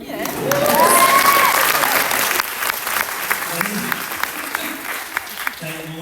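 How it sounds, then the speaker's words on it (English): Applause from an audience at a book launch in Melbourne swells quickly, then fades into scattered claps, loud and close, with a person speaking over the tail end. "Will you clap for that?"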